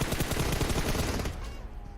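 Rapid automatic gunfire rattles in a PUBG Mobile esports finals match, dense bursts of shots for over a second before cutting off and leaving a quieter tail.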